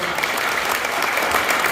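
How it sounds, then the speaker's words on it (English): Steady applause from an audience at a national healthy housing awards ceremony, an even wash of many clapping hands, moderately loud and uninterrupted. "So a big round of applause."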